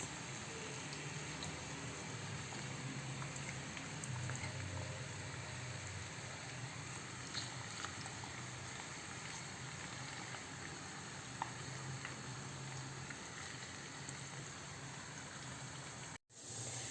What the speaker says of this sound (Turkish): Patateslerimiz kızarıyor orada